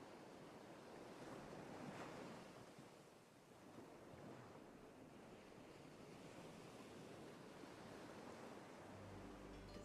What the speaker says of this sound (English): Do I hear waves?